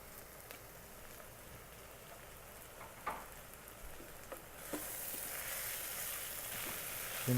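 Carrot and green pepper sizzle in an Instant Pot with a soft, steady hiss that swells louder partway through, close by with occasional light clinks.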